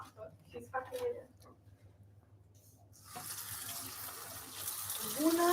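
Water from a kitchen tap runs into a coffee maker's reservoir, a rising hiss of flowing water over the last couple of seconds after someone talks briefly.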